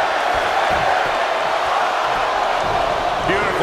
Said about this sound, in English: Listen to this crowd.